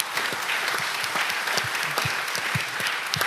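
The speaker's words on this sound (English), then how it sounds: "Big round of applause, please." Dense audience applause fills a conference hall after a panel on Bitcoin mining and energy, a steady, loud wash of many hands clapping throughout, with a few low thumps beneath it.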